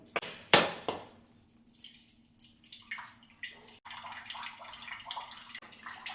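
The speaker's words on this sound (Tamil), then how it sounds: "இந்த பாருங்க தேங்காய் தண்ணி ஊற்றுறேன்." Coconut water poured out after the coconut is cracked open, heard as a sharp knock early on followed by a soft, irregular trickle and splash with light drips, close by and fairly quiet.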